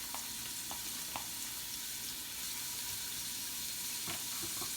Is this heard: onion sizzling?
yes